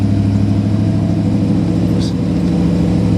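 A 1974 Pantera's engine idling fast at around 1800 RPM, a loud, steady, close rumble that holds evenly throughout, with no talk.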